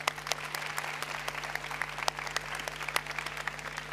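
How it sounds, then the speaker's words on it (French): Audience at a youth programme session of a conference applauding themselves, scattered, fairly faint claps with individual sharp hits standing out over a low steady hum. "est-ce qu'on peut juste s'applaudir d'être là"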